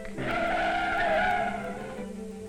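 Car tires skid and squeal loudly as a car brakes hard, one sustained screech of about two seconds that fades near the end.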